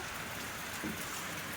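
Steady rain falls on a farm, a soft continuous hiss of drops with no voices, even and unbroken throughout.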